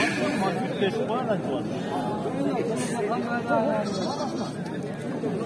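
A dense chorus of sheep and lambs, with goat kids among them, bleats continuously and overlapping at a livestock market, with people chattering throughout.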